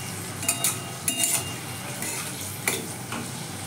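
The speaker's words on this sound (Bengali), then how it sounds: "ভালো করেই ভাজবো যাতে শিমগুলো সর্ষে বাটা যখন দেওয়া হবে মশলা দেওয়া হবে কাঁচা না থেকে যায় সেগুলো সুন্দর করে ভেজে নেওয়া হবে" Flat beans (sheem) fry in a pan, giving a close, bright sizzle broken by a few quick stirring scrapes and light clinks of a utensil, with no voices.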